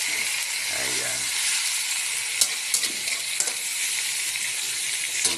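Pork hits a pan of softened tomatoes for adobo, giving a steady close sizzle and frying hiss with a few light scrapes and clinks of stirring.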